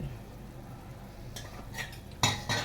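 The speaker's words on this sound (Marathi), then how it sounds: "झाकण उघडून बघूया." A metal lid comes off a pan of Maharashtrian red amaranth greens after steaming, a few quiet clinks and scrapes of metal on metal over a low room hush, the last two sharper and closer.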